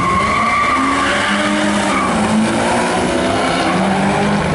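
A car does a burnout at the Summernats Burnout Masters event, with loud, continuous tire squeal and a revving engine, close and unbroken throughout.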